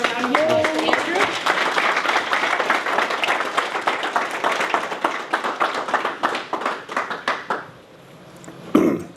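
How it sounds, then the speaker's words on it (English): A conference audience at the 2024 CT Compost Conference claps for the speaker Andrew. Lively applause gradually thins into scattered individual claps before dying away, followed by a brief cough or throat-clear near the end. "So if you can join me in a round of applause for Andrew"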